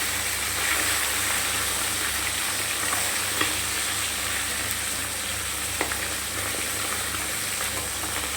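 Pomfret fish frying lightly in a pan gives off a steady, soft sizzle that holds evenly throughout, with occasional faint crackles and no voices.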